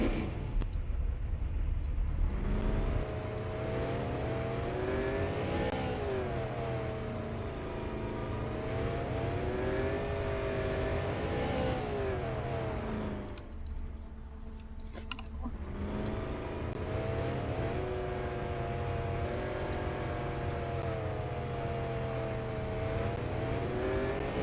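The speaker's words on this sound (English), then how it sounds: "Although this one does have a different engine sound." Game police car in Arma 3 with its engine revving, a loud continuous motor with rising and falling pitch sweeps, briefly easing around the middle before roaring again, with no talk over it.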